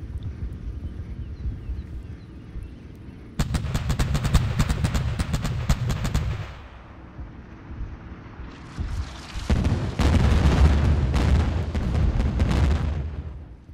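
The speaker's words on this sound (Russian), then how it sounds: "Второй обстрел сразу." Artillery shelling and gunfire in Theatre of War 2: Kursk 1943, a World War II battle: loud, close bursts of booming blasts and rapid gunfire in two heavy waves, with a quieter rumbling lull between them.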